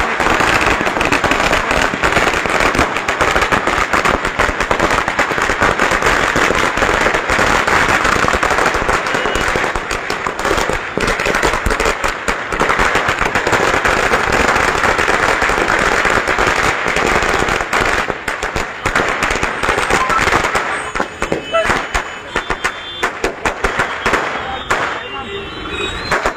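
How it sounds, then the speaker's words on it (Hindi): Dense, continuous crackle of firecrackers bursting during a Diwali celebration in Srinagar's downtown, loud and sustained with rapid overlapping pops throughout, with crowd voices faintly underneath. "दिवाली को सेलिब्रेट करते हुए इस तरह से देखा गया, जहां पे पटाखे फोड़ रहे हैं"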